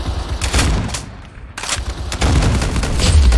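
Rapid gunfire bursts in a video game, loud and close, with repeated sharp shots, a brief quiet gap midway, then sustained firing building toward the end.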